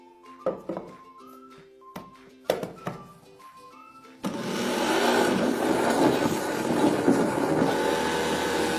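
A blender mixes eggs and condensed milk for pudding. A few knocks and clinks come first, then the motor starts and runs as a loud, steady, close whir to the end.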